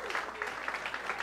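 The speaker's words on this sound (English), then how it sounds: "Please, a big round of applause for the hilarious Marga Gomez." A comedy club crowd applauds for comedian Marga Gomez, a brief burst of clapping heard from a distance at low volume, with some speech underneath.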